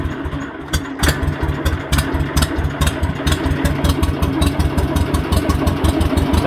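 Small engine on a new garden machine cranks briefly, catches, then settles into a steady, loud, close-up idle with a regular pulsing rhythm and no talking.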